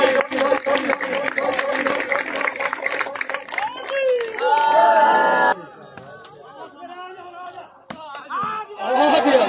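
Spectators at an outdoor Pakistani volleyball match clap in quick bursts early on, then a loud voice on a public address takes over with crowd noise behind it.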